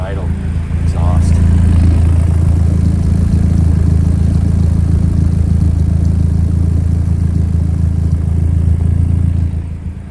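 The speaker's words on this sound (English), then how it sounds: "let's have a listen to that idle exhaust" A deep, steady side-pipe sports car exhaust idle burbles loudly and evenly for several seconds before cutting off near the end.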